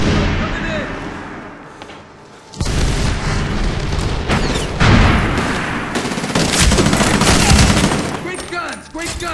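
A planted explosive charge detonates in the Medal of Honor Warfighter multiplayer shooter: a heavy boom hits suddenly, then rolling rumble and scattered gunfire continue loudly for several seconds.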